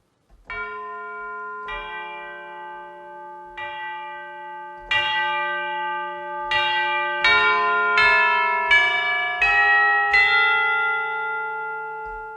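Sampled tubular bells from the Vienna Symphonic Library Synchron Prime Edition ring out in a slow melodic sequence of clear metallic strikes, each tone sustaining and overlapping the next, growing fuller as the notes come faster.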